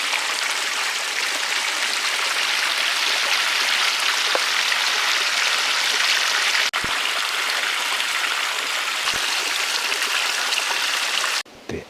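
Spring water flows steadily at St Anthony's well in the Forest of Dean, a continuous close rushing trickle that holds an even level for most of the time and cuts off just before the end.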